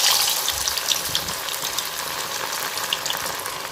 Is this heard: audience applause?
no